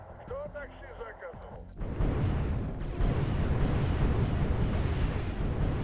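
Heavy explosions and rumbling battle noise as tanks come under fire in the Wargame European Escalation video game, a loud continuous roar after a brief stretch of voices and tones at the start.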